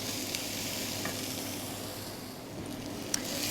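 Sweet potato, carrots and onions frying in a pan with garlic, a soft continuous sizzle with faint crackles and one small sharp tick near the end.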